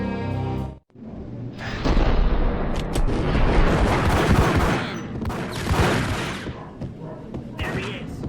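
Rapid gunfire in the 2001 video game Max Payne: a dense, loud barrage of shots and booming impacts that runs for several seconds after a brief break, with a voice speaking just before it.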